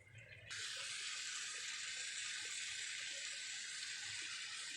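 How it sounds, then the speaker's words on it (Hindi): Water pours from a tap into a pot of spiced beef curry, a steady splashing rush that starts abruptly and runs evenly to the end. "थोड़ा सा पानी डालेंगे।"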